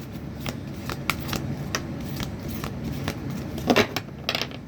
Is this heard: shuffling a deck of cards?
yes